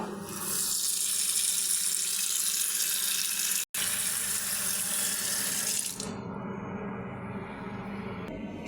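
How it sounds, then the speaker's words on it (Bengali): Running water splashes steadily for about six seconds while water spinach greens are washed under it for a Bangladeshi recipe, then drops to a quieter trickle and rinse, with one brief gap midway and no talking. "এখন শাকটা ধুয়ে নেব।"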